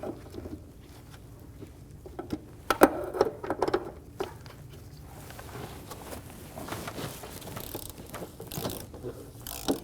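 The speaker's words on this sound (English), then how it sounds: "Snug the bolts down in a cross pattern to make sure that the throttle body sits square on" Ratchet wrench snugging down throttle body bolts on a 2008-2015 Scion xB 2.4L four-cylinder engine, heard as bursts of close, rapid clicking pawl ratchets separated by short pauses, with no one talking.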